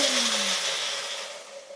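A cheap Magic Bullet personal blender whirs loudly at high speed, a steady harsh motor roar with a faint rising whine that holds throughout, slowly easing off toward the end, with no talking.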